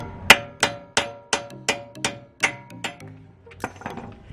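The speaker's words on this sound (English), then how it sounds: "we're just going to hammer it through the other side" About a dozen hard metallic hammer blows ring out on an old lug nut, driving an extended wheel stud through the hub of a 2017 Subaru Forester XT, struck at a steady rhythm, close and loud with ringing decay.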